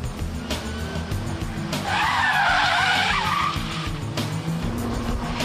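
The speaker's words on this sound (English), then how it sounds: "So that's the handbrake turn, the 90-degree handbrake turn, the handbrake turn followed by reverse flick" A car performing handbrake turns and flicks, tyres squealing in a loud sustained screech over a rough engine roar, with the skid rising midway and fading out, heard close.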